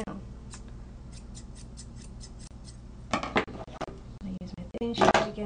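Dog grooming scissors snipping through a dog's coat: a quick run of light, close metallic snips, then a few louder cuts near the end, with no talk.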